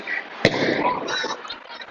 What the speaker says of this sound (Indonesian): kami mendengar ada beberapa kali bunyi ledakan di sekitar Gedung Putih